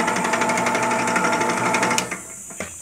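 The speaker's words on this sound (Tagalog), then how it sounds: "just turn on the switch and see. As we can see, it's working." A small benchtop mini drill press motor running at its slowest speed, giving a steady high whine with a faint rhythmic buzz for about two seconds before it cuts off and winds down quietly, with no talk.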